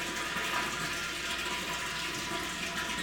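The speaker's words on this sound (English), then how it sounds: "So I'll drain the water, bring it back to zero," Water drains out of a pressurized column in a steady, loud, gushing hiss that stays constant throughout, with no voices.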